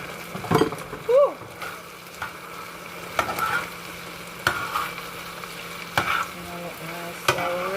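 Pasta stirred in a sizzling frying pan for a Jamaican country-style dish, with steady frying hiss broken by several scraping stir strokes; a voice briefly exclaims.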